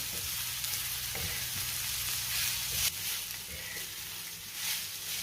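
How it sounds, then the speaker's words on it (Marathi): A fenugreek thecha mixture sizzles in a pan while a spoon stirs and scrapes it, with several sharp knocks against the pan over a constant frying hiss. "आणि पुन्हा सगळं व्यवस्थित मिक्स करून घेऊया।"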